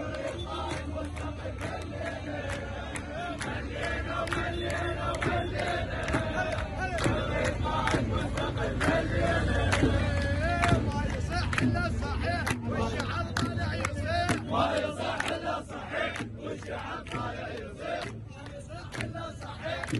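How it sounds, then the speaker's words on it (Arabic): Large Iraqi protest crowd from the October revolution chanting and shouting, a loud continuous roar of many voices with rhythmic chant bursts and scattered sharp shouts throughout. "هاي هي صيحات الجماهير بالعراق."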